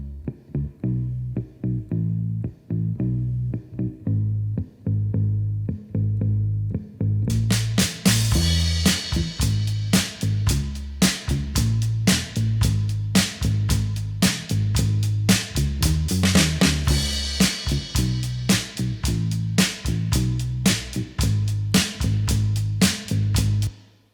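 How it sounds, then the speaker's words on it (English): Isolated bass track for a one-man-band recreation of a song, played with compression and a touch of reverb. A steady plucked line starts alone, then carries on under added bright percussive hits from about eight seconds in. "So the bass sounds like this."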